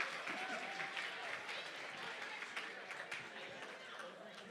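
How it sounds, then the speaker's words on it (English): Audience applause at a charity auction dinner, a dense, steady wash of clapping from a large room with crowd murmur mixed in, sustained throughout without a break. "Ladies and gentlemen, a huge round of applause."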